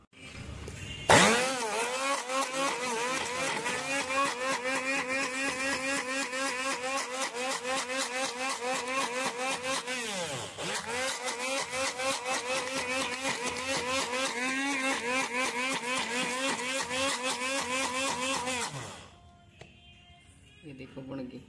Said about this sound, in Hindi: ये भी ना मिक्सी में पीस दूँगी।